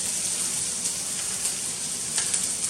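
Half a stick of butter sizzles steadily in a hot pan, a close, even crackle and hiss that holds for a few seconds with no voices over it.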